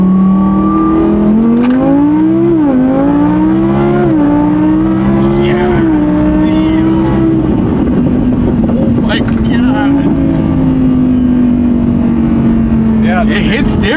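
A supercharged Audi R8 accelerating hard, its engine pitch climbing through several gear changes with a loud, close whine and roar, while people talk inside the car.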